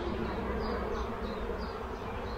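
Honeybees buzz steadily around an open beehive frame during a spring hive inspection, a dense, close, continuous hum with no pauses.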